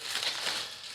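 Resting pulled pork being unwrapped from its wrapping beside a meat cooler, giving a steady close crinkling and rustling of wrap that runs through the whole second with no talk.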